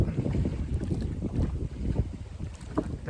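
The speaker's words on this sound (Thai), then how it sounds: "ลมแรงมาก" Strong wind buffeting a small fishing boat moving along the Mekong River, a rough, gusty rumble of wind noise against the microphone with faint water sounds beneath.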